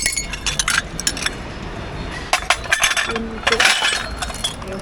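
Some broken seashells from a dumpster-diving haul clink and rattle as they are handled. Bright, irregular clicks come in clusters, close by, while a voice speaks briefly.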